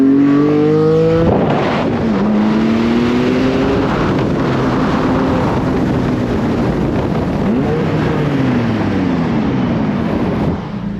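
A Porsche Cayman GT4 sports car with PFC brakes drives hard along a curvy, winding neighborhood road, its engine note rising and falling through repeated gear changes, loud and close throughout with no talk.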